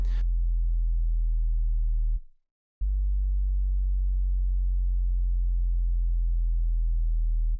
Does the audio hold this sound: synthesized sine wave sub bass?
yes